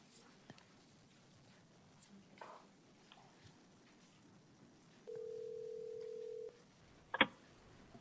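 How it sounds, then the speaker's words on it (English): A telephone call comes in during a public hearing on redistricting: a steady electronic tone lasting over a second, then a short sharp burst, amid quiet room noise and faint rustling. "I guess we got a phone call"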